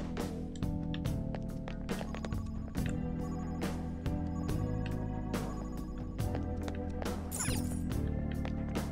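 A phone rings inside the video game Persona 5 Royal, a repeating electronic ringtone pattern over layered game music, steady and fairly loud throughout.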